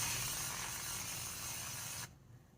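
Cooking spray of coconut oil hisses into a 2-inch Pyrex baking pan in a steady, close, continuous burst that stops abruptly near the end.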